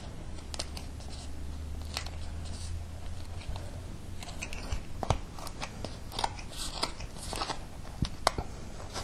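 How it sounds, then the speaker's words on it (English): Scissors crunch and snip through burrs on foam armor pieces, a continuous stream of close, crackly cuts and small clicks with no speech. "Feel free to take your scissors or knife and just kind of cut those off just to get a smoother finish."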